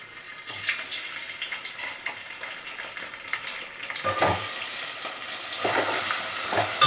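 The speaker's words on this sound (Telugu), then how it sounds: "ఇప్పుడు ఆ నూనెలోకి మనం చామదుంపలు వేసుకున్నామండి." Taro root pieces sizzle and crackle as they fry in hot oil, a steady bubbling hiss with occasional louder spatters and stirring scrapes, close up and with no talking.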